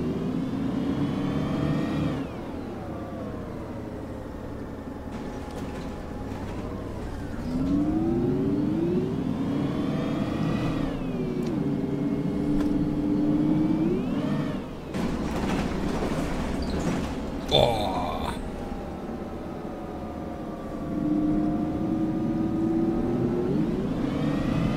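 Outside sounds heard through an open window of a MAN NL 313 CNG bus in the OMSI 2 simulator: a steady engine drone with rising and falling revs as the bus pulls away, plus brief clatters and road noise.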